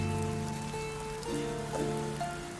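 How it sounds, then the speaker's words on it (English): Steady rain falls in the Viking survival game Dead in Vinland, a continuous moderate patter beneath sustained tonal game music, with no voices. "Presumably it's raining again."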